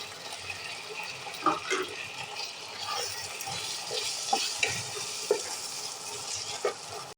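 Bottle gourd pieces cook with spice masala in a pan, a soft wet sizzle broken by repeated scraping and stirring knocks from a spoon, close and steady with no talking.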